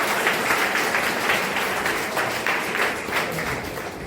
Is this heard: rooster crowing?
no